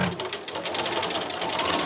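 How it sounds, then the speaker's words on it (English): A sewing machine runs steadily at close range, stitching a fabric pencil pouch with a continuous, even, rapid whirring chatter that holds for the whole stretch without pause. "I'm gonna just give you a little demo of how I just add the stitching to this"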